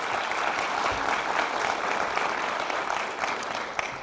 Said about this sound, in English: You deserve a tremendous round of applause for another successful Rare Disease Week